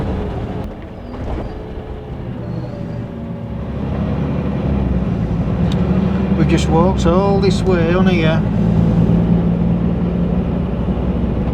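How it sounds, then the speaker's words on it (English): Continuous low engine drone and road rumble from inside a moving bus leaving Torrevieja, steady throughout, with people talking over it. "we just got the 4 o'clock bus and we're on our way out of Torrevieja"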